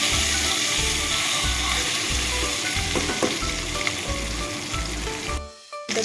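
An egg frying lightly in oil in a pan, a loud, dense sizzle with a low rhythmic pulsing underneath and a few soft clinks, cutting out abruptly near the end.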